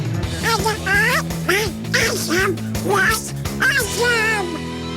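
A man imitates Donald Duck's quacking voice, a run of nasal, squawky, duck-like phrases delivered close and loud, with some background noise underneath.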